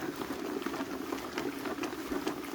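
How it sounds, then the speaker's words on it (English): Continuous watery churning and sloshing of water inside a bag being shaken, a steady busy liquid rumble with faint crackly bursts throughout, no voices. "the water's shaking on the inside"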